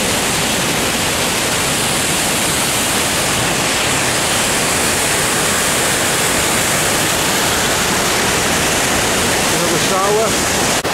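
Steady, loud rushing water feeding a hydroelectric plant near the border between France and Switzerland, a dense continuous roar filling the whole stretch.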